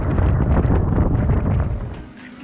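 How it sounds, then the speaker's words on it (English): Strong wind buffets an anchored boat, a loud, rough, continuous roar of gusts over the microphone that eases slightly toward the end, with no talking. "Even though it's windy and the conditions aren't the best"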